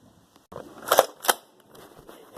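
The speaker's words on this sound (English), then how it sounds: "I got it powered up. This is my Nerf gun." A powered-up Nerf toy gun fires in two sharp, close snaps about a third of a second apart, with faint rustling before and after.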